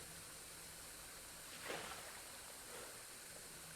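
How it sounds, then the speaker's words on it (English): Steady rushing water from a waterfall in the video game Liminal Shift, a constant broadband wash with a slightly louder surge midway, no voices. "Is that a waterfall down there? Or water dripping from somewhere else?"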